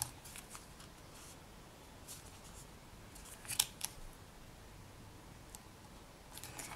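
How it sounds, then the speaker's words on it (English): Small, faint snips and soft scraping come from trimming a polymer clay pendant, scattered quietly with a slightly sharper cut near the middle. "I'll just continue trimming it out until I have got it completely trimmed out."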